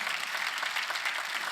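Members of a church congregation clap together during a Sunday worship service, a brief, lively burst of rhythmic applause that is clear and close, with no talking.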